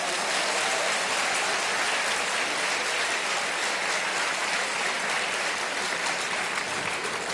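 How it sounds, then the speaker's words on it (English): An audience at a religious debate hall claps steadily, a dense, loud wash of applause that holds evenly throughout without pause. "give him another clap for that"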